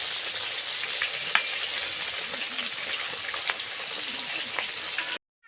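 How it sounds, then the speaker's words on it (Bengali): Pieces of a large rui fish fry in hot oil, giving a steady close crackling sizzle with scattered pops, which cuts off abruptly near the end. "আগে কয়েকটা ভেজেছি আর এখন 3টা ভাজছি"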